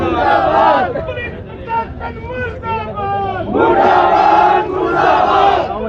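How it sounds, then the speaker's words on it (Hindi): A protest crowd in Jhotwara loudly chants slogans against the police administration in rhythmic, shouted waves, close by and full of voices. "पुलिस प्रशासन के विरुद्ध नारेबाजी हो रही है"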